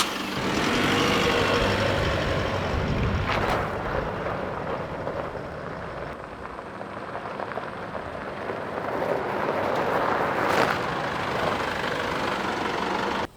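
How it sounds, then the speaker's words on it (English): A car on the move, a steady broadband rumble of engine and road noise running throughout with a couple of brief louder swells, no voices. "now we can go for a drive"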